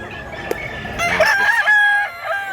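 A rooster crows once, loud and close, a drawn-out call lasting about a second, preceded by a faint click.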